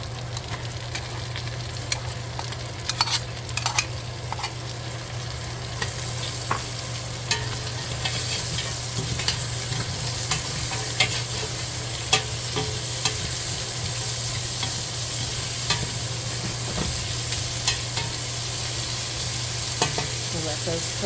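Carrots and celery sauté in chicken pan drippings with a constant close sizzle and frying hiss, while a spoon stirs and scrapes the pan in occasional short clicks over a low steady hum.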